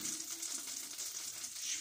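Cauliflower fries in melted butter in a pan, giving a continuous crackling sizzle with bright spattering bursts, close and steady, with no voices.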